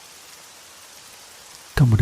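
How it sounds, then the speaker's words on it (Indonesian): Rain falling outside an apartment, a faint steady hiss of drops heard alone before a loud voice abruptly cuts in at the end. "Terus kamu dengar kan suara hujan itu?"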